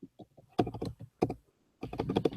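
Typing on a computer keyboard in quick clustered bursts of clicks and clacks, close and fairly loud, with short pauses between runs.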